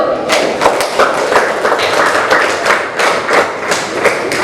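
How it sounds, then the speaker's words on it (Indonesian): A school class claps steadily and densely, a sustained round of applause from many hands with no voices over it. "tepuk tangan untuk kelompok 1"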